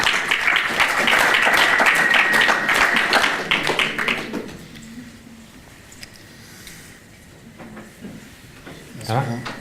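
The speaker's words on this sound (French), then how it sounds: "Vous pouvez l'applaudir." Applause rises from an audience at a business awards ceremony, a few seconds of steady clapping that fades out into a quieter room with a voice speaking afterward.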